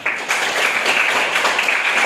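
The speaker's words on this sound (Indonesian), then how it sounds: "Beri aplaus dulu buat teman." Classmates applaud in a classroom, a steady dense patter of many hands clapping throughout, close and fairly loud with no voices on top.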